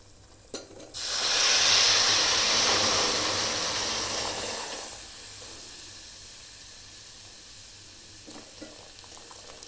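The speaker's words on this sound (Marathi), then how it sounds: "आता त्याच्यामध्ये मी दूध टाकते" Milk poured into roasted semolina with cashews, almonds and cardamom in a hot pan for rava kheer, bursting into a loud close sizzling hiss that swells quickly, holds for a few seconds, then fades to a low simmer.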